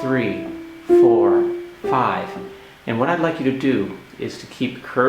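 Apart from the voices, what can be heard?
No everyday noises stand out.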